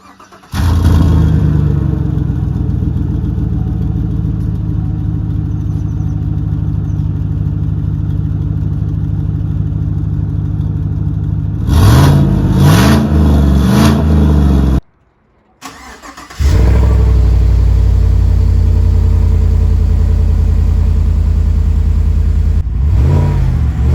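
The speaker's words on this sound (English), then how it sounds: "a sound clip and a video of the cold start after I've installed this cold air intake" A car cold-starting with an aFe throttle body spacer and cold air intake fitted, its engine cranking and catching into a loud steady idle, a few revs blipping up, then cutting out briefly before restarting and idling on.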